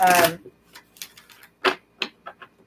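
A deck of reading cards is shuffled, opening with a loud riffling burst followed by a scatter of light, quick card taps and clicks.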